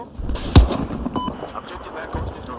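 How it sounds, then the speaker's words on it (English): A single sharp, loud sniper shot cracks out in Battlefield 4 gameplay, followed by a low murmur of battlefield ambience. "I just got shot by a sniper."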